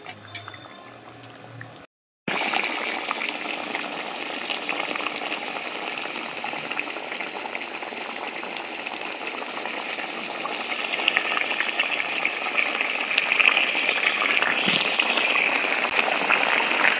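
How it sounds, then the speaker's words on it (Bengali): Gondhoraj rui fish curry with gondhoraj lemon leaves bubbling in a pan, a steady close hiss and simmer that swells slightly toward the end after a short quiet moment at the start. "দিয়ে একটু ফুটিয়ে নেব।"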